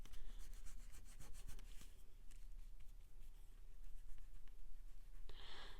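Gooey craft medium rubbed around on paper, a steady close scratchy smearing with repeated strokes, fairly quiet, with a brief louder hiss near the end and no talking.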